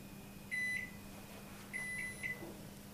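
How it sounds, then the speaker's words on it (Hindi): A Capella BOC 625 combi oven runs in microwave mode at power 30 with a steady low hum, and two short electronic beeps rise above it partway through. "अभी हम माइक्रोवेव यूज कर रहे हैं पावर 30"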